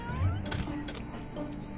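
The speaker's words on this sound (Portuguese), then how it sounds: "Olha que gato lindo." A cat in The Sims 3 gives a short, close meow over a busy game background, with no talking during the call.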